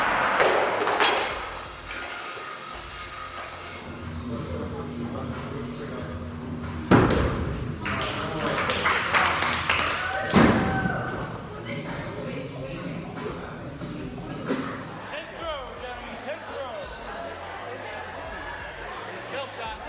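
At an axe throwing world championship, thrown axes strike the wooden target with a couple of solid, sharp thuds, heard amid crowd chatter and people talking in the venue.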